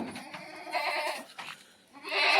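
Kathiawadi goats bleat in several loud, wavering calls that overlap and repeat close by, with a brief pause before a final strong cry.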